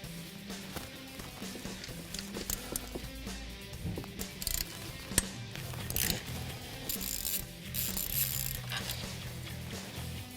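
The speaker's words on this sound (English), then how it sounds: "there's 4 bolts and 1 stud that have to be removed for our new bracketry" A ratchet works loose four bolts and a stud on a 2015-2017 Mustang GT engine during a Roush supercharger kit installation, giving repeated bursts of clicking and metallic clinks close to the microphone.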